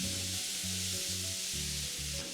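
Tomatoes cooking in a pan with turmeric and Kashmiri chilli powder, a loud continuous sizzle with a low pulsing hum repeating under it, close and without speech.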